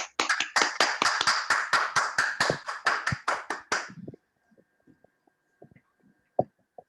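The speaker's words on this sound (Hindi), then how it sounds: "मैं जोरदार तालियों से स्वागत करता हूं।" A short burst of brisk, even clapping from a small group welcoming a speaker at a webinar, about four seconds long, then a few scattered faint taps and noises.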